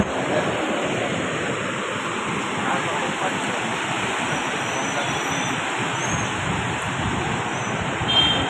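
Water rushing through the open Galudih dam near Ghatshila, a loud continuous roar heard from right beside the dam, steady throughout with no talk.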